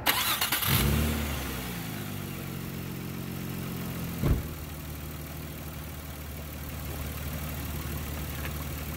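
A 1994-1999 Nissan Maxima engine with an ignition coil pack problem cranks briefly, catches and fires up, then settles into a steady low idle with a small revving bump partway through.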